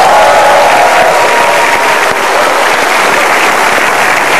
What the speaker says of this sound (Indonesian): Ya, kita berikan tepuk tangan yang meriah sekali lagi untuk Tatalu.